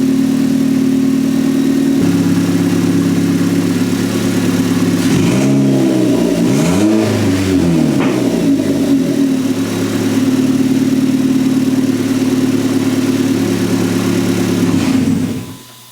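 A turbocharged 2004 Nissan Sentra SE-R Spec V engine turns over and settles into a steady, loud idle, with a brief rise and fall in revs partway through before cutting off at the end.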